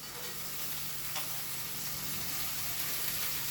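Onions frying in hot oil after green chillies have already softened in the pan: a steady, close, even sizzle that carries on without pause, with no voices.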